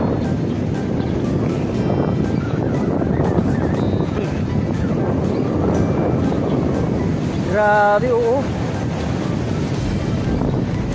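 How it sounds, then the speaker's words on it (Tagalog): Rough sea waves surge at high tide, a loud continuous roar with heavy wind buffeting the microphone, and a person briefly speaks near the end. "Nangangalit po ang dagat. Ngalit na ngalit ang dagat."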